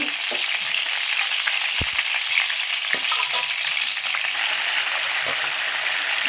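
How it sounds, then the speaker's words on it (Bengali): Chicken pieces frying in hot oil for a wedding-style roast, a bright, steady, close sizzle broken by occasional scrapes and knocks of stirring, with no one speaking. "এভাবে আমি চিকেনগুলো ভেজে নিব"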